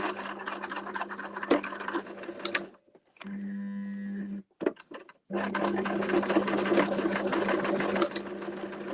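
A sewing machine stitches through a newspaper basket in loud, rapid bursts separated by short pauses, close up and without talk.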